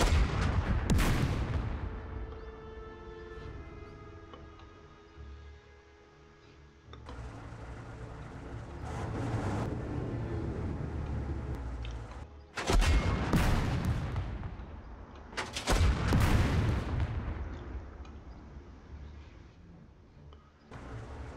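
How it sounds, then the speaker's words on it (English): In the video game Second Front, a tank cannon fires AP shells: several heavy, booming blasts spaced seconds apart, each with a long rumbling decay, close and loud. "how many shots will it take for us to destroy one of these tanks?"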